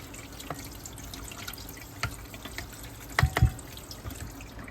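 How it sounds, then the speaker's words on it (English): Tap water runs steadily in a quiet trickle over sea moss, with a couple of louder splashes partway through. Nobody speaks. "running the water through it real quick"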